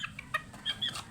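Hens clucking close by, two laying hens and a young pullet giving short, separate clucks and chirps in an irregular rhythm, with no talk over them.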